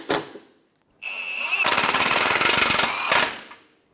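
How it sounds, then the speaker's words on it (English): A pneumatic impact wrench tightens transmission mount bolts on a Toyota Highlander: a short burst, a pause, then a loud rapid hammering rattle lasting about two seconds before it cuts off. "Then go around and tighten up all your bolts."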